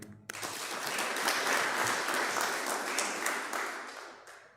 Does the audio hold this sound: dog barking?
no